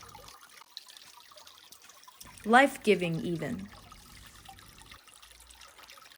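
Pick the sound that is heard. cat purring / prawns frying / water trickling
water trickling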